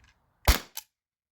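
A T4E HDP50 Gen2 pistol fires a single 50 cal nylon ball through a chronograph: one sharp, loud crack followed by a short, softer impact snap, then silence.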